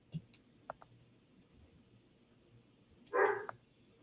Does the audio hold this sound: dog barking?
yes